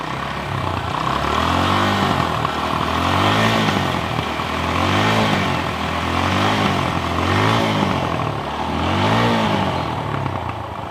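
A second-hand motorcycle engine runs nearby and is revved repeatedly, its pitch rising and falling in about five rhythmic swells over a steady idle, with no talk.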